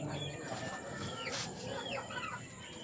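Flores White stag chickens on a farm cluck and call softly in a rough chorus, with a few sharper squawks rising over a steady background hum.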